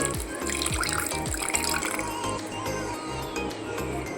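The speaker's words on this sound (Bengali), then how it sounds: "এবার এখানে দিয়ে দিচ্ছি পরিমাণ মতো জল" Water is poured into a spice mix for a Bengali hilsa fish curry, giving a close, steady splashing and filling sound with faint clinks, continuous for a few seconds without talk.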